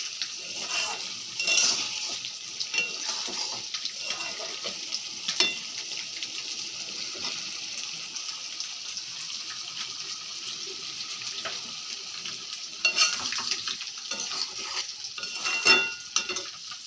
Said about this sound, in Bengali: পেরে নিয়ে এসে এই যে ডুমুরের ডালনা করছি।